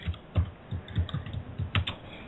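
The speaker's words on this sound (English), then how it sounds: "hammering on the keyboard." Hard, irregular thumps of someone pounding a computer keyboard, about a dozen heavy keystrokes in quick clusters, heard close over a muffled, narrowband connection.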